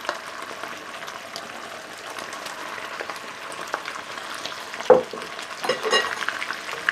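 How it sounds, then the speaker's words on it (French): Aubergines are fried and stirred into a thickened Asian-style sauce in a pan, producing a soft, even sizzle with occasional spoon knocks and a sharper clatter toward the end, heard close with no talk. "Je vais maintenant venir y mettre mes aubergines."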